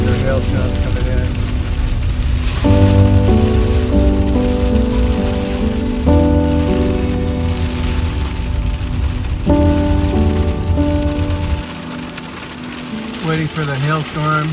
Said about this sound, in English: Larger hailstones coming in.